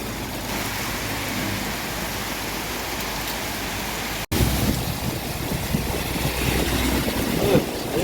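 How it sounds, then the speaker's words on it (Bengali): Steady rain pours down with wind in a dense, constant hiss, continuing after a brief cut in the middle. "বৃষ্টি হইতেছে"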